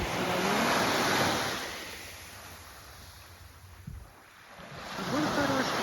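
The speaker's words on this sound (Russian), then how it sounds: "Сейчас немножко стало подниматься волна." Baltic Sea waves wash onto an empty beach as the swell begins to rise, a broad surf roar that swells, fades, then builds again, with wind buffeting the microphone.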